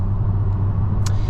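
A 2023 Kia Soul GT Line accelerating hard, heard from inside the cabin as a steady, loud low engine drone with road rumble and one brief higher-pitched noise near the end.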